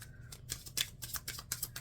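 Tarot cards being shuffled by hand in a quick sequence of crisp riffling slaps and flicks, close and fairly quiet, with no talking.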